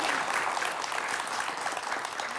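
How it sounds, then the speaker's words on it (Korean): A studio audience at a Korean television lecture breaks into a steady, even wash of clapping that is moderately loud and close, with no voices over it. "박수 한번 보내드릴까요?"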